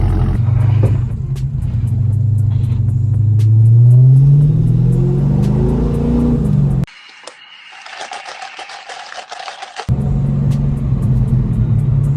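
A Dodge Scat Pack fitted with a new aftermarket exhaust idles with a deep, loud rumble, swells through a rising rev, then drops out for a few seconds before the heavy idle returns, close by and with no talk.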